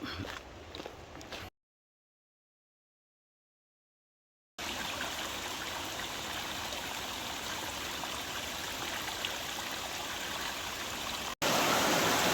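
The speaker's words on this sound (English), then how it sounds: "Crossing the river." River water rushes steadily during a crossing on a White Mountains hiking trail, a broad, continuous flowing noise that is interrupted by a few seconds of silence partway through.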